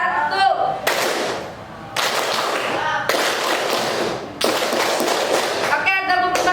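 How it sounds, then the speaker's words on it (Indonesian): A group claps in unison during an icebreaker routine, in four loud sustained bursts separated by short pauses, with a voice briefly heard before and after. "Tepuk 5 kali, kita coba dari mulai 1."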